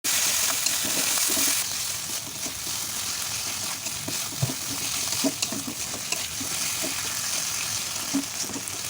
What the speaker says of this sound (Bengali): দিয়ে আরও কষাতে থাকবে।